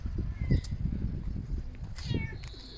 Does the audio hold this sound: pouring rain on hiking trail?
no